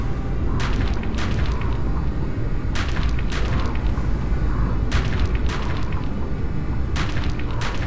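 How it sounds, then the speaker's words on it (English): Heavy explosions and artillery fire rumble through a Ground Control 2 battle, a dense continuous low roar punctuated by four clusters of sharp blasts and bursts at steady intervals. "We're under heavy fire."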